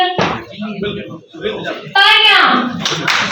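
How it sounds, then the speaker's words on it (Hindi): Audience clapping at a journalists' honour ceremony sounds in short bursts behind loud amplified announcing, rising near the end of the clip. "जोरदार तालियां, तालियां नहीं रुकनी चाहिए।"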